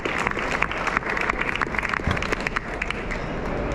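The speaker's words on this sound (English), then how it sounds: "So congratulations, give yourself a big round of applause." A conference audience at a Glasgow hospitality and tourism event gives a big round of applause for award winners, a loud, dense clatter of many hands with sharp individual claps standing out.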